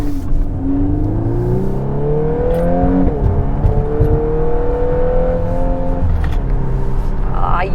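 Volkswagen Golf R in R mode accelerating hard from inside the cabin, engine note climbing through several gears with quick dips at each shift, loud and steady throughout.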